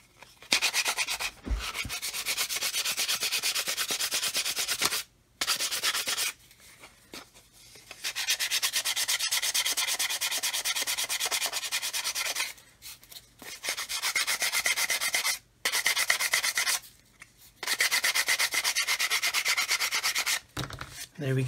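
A surface is sanded by hand in long, steady rubbing strokes, loud and close, broken by several brief pauses, with no talking.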